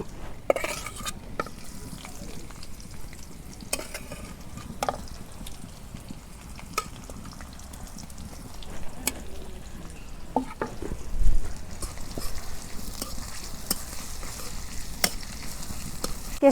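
Chopped onion dropped into hot mustard oil in a kadai, frying with a soft, steady sizzle and occasional sharp clinks and scrapes of a utensil against the pan, no talk.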